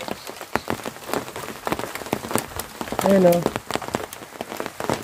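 Heavy rain from a storm falls near a fishing spot, a dense steady patter with sharp drop hits on a nearby surface. Someone speaks briefly over the downpour.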